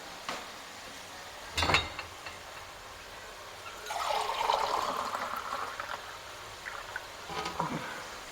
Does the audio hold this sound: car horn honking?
no